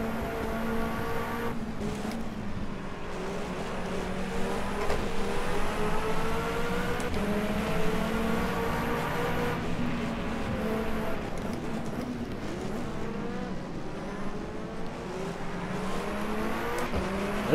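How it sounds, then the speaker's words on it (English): Sports car racing engines in the rFactor 2 sim, a Gibson 015S prototype at Matsusaka, give a steady loud high-revving whine with rising and falling gear pitches and other cars passing, continuous throughout without talk. "This is sports car racing right here."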